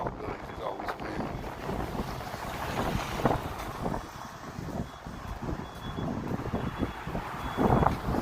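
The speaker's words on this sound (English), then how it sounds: "once we get around these tall buildings, there's always wind" Strong wind gusts buffet the microphone on a Chicago street among tall buildings on a January morning, a loud, continuous rumbling roar that swells and dips, with faint city noise underneath.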